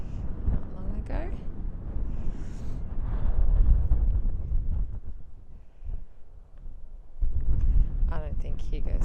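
Cold wind gusting outdoors near coastal cliffs, a low rumbling buffet across the microphone that swells and eases over several seconds, close and fairly loud, with faint talking mixed in at moments.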